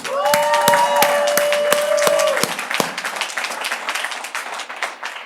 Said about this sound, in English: let's clap it out for Shelby.